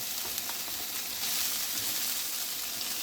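Onion and minced meat frying in oil in a pan, a steady close hiss of sizzling with faint crackles throughout and no talking.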